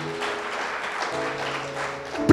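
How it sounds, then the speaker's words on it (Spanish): Clapping from a church congregation rises briefly and moderately loud, a short burst of hands with faint musical tones underneath. "Denle un fuerte aplauso al Señor."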